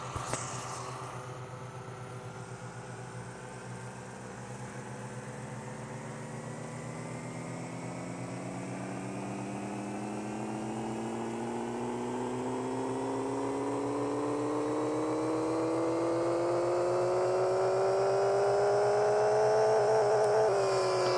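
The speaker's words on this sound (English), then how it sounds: "this car, the engine right now, produces 250 horsepower, but to the crank it might be different, so we'll dyno it." A car engine in the Pixel Car Racer video game revving on a dyno, a synthetic tone climbing steadily in pitch and loudness over about twenty seconds under a constant low hum.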